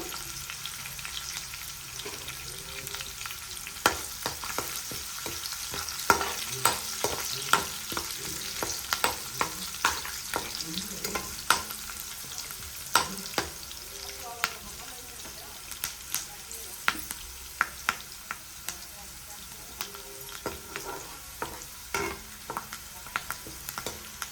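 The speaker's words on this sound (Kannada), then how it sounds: "ಇದಕ್ಕೆ ಒಂದು ಸ್ವಲ್ಪ ಜೀರಿಗೆ ಸೇರಿಸ್ಕೊಬೇಕು. ಅದು ಈ ಥರ ಫ್ರೈ ಮಾಡ್ಕೋಬೇಕು." Cumin seeds fry in oil for an egg curry, with a soft steady sizzle under many sharp crackles and pops, plus intermittent clinks of stirring, close by and continuing for some twenty seconds.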